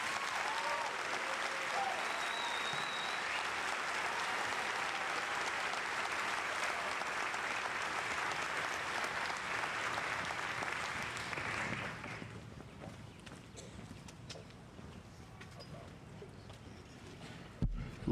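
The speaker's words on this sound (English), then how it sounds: "please join us in giving these fine soldiers a round of applause" Sustained audience applause for graduating infantry soldiers of the Ohio National Guard at a military graduation ceremony, steady and full for about twelve seconds before thinning into scattered claps and crowd murmur.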